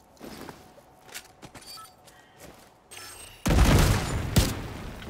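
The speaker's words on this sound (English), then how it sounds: "Chucking grenade now!" Gunfire and scattered impacts in The Division 2 shooter, then a sudden loud grenade blast with a booming rumble that stays heavy and dense to the end.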